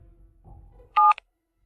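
A telephone number is dialed with a loud keypad tone, then a second brief beep, after faint low rumbling, before silence.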